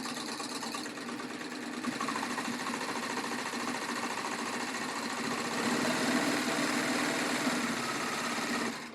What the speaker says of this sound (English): I've slipped fabric up underneath the presser foot, and then we're just going to gather.